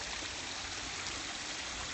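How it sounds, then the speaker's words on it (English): A backyard garden waterfall pours into a small koi holding pond, producing a dense, steady rushing splash heard close up with no talk. "that's the waterfall there with a small holding pond here"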